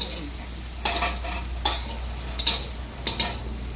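Isan herb chili paste ingredients are dry-stirred on low heat in a pan, giving a steady low sizzle punctuated by about five sharp scraping stirs at irregular intervals, close and without talk.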